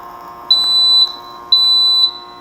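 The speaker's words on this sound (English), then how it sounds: "Or use a test spray and listen for the alarm." Smoke detector alarm sounding during a test, giving two loud, piercing high-pitched beeps of about half a second each, evenly spaced over steady background hum, with no talking.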